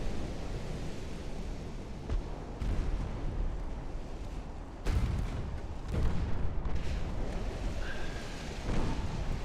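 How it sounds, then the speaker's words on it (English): Torpedoes launched and exploding in a naval combat video game, a long stretch of deep rumbling booms and heavy blasts, with a few sharper impacts standing out over continuous low noise. "Torpedoes away."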